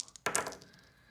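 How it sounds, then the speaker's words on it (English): Dice rolled onto a surface during a tabletop reading, a single sharp clatter with a brief tumbling rattle that quickly fades, close and fairly quiet with no talk. "So let's roll up your dice and we'll see what we have for a numbered indicator"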